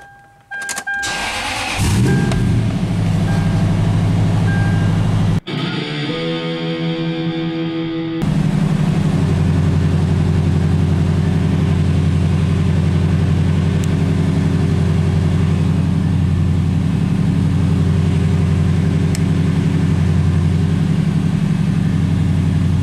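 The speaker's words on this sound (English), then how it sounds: "You have to restart the engine before the VSC system will turn back on." A 4th gen Toyota 4Runner engine cranks and starts, then after a brief pause and restart it settles into a steady, loud close-up idle.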